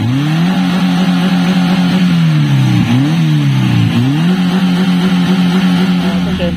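A Honda Civic SiR with a B16 DOHC VTEC engine revs loudly and close, its steady idle note climbing and falling through several quick blips before settling, with no talk over it.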